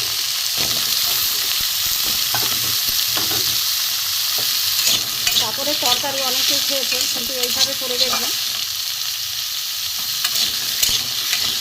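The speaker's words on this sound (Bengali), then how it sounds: "আমরা আলুগুলো ভেজে নেব। কড়াই তেল ছিল, অল্প তেলে ভেজে নেব।" Potatoes fry in a little oil in a wok, crackling and sizzling steadily up close while a voice speaks over the cooking noise.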